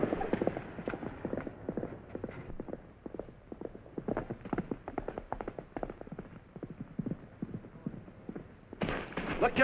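Hooves of Trigger, a horse on the range in a 1944 Western, clip-clopping in a quick, steady rhythm, moderately close and sustained over a muffled, band-limited soundtrack.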